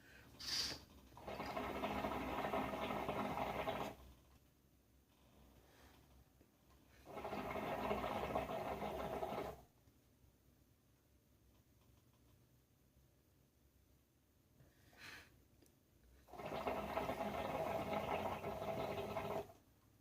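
Hookah drawn in three long pulls with Kaloud Lotus coals on top, each a steady airy bubbling gurgle lasting a few seconds, separated by quiet pauses and a brief exhale; no talking.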